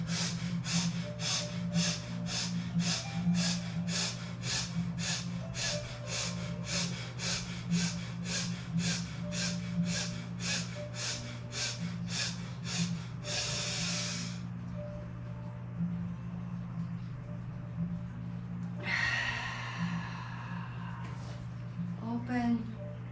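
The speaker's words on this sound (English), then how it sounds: "Please begin to breathe in and out of the nose," Rapid, forceful nasal breaths for yoga, pumped from the belly in an even train of sharp snorting pulses about twice per second, then a pause, a single longer breath and a short burst of puffs, close and clear.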